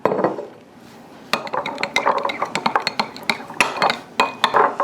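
Spoon stirring sour cream and hot sauce in a bowl, a brisk run of close clinks and scrapes against the dish after a quieter start.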